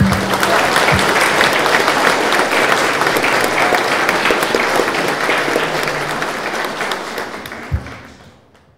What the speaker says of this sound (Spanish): Reciban muchos aplausos también